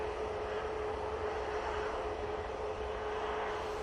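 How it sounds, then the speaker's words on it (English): A TUI airliner inbound from Cancun turns onto final approach at Manchester Airport, its engines a steady, distant roar with a faint sustained tone and no voices over it. "That Tui from Cancun's about to turn onto final."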